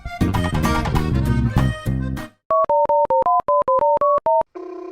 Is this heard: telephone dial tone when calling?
yes